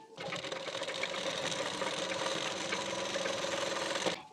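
A sewing machine stitches along the edge of a blouse patti in one continuous fast run, a steady close mechanical whir that stops abruptly at the end.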